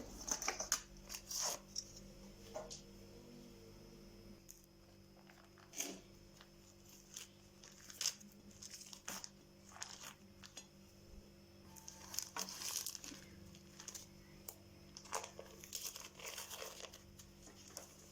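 Baking paper crinkles and tears as it is peeled from the edges and base of a chilled no-bake mosaic cake, a long quiet run of scattered crackles and rustles close by.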